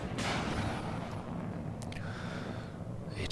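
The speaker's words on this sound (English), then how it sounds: "ATGM keeps firing right here." Anti-tank guided missiles fire in the WARNO real-time strategy game as a deep, rumbling launch boom that trails off, followed by a few sharper distant reports and a whooshing streak, with no talking.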